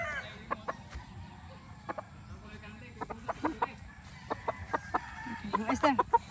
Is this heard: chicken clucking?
yes